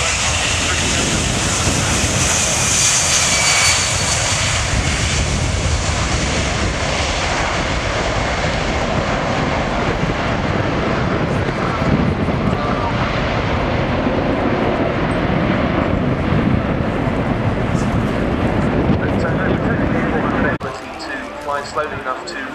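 A US Air Force Boeing 737 flying past at an air show, a loud, sustained jet engine roar that holds steady before cutting down sharply near the end.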